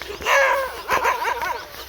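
A dog barks and yelps in short repeated bursts close by, sounding agitated, with a brief whimpering tone between the barks and no speech over it.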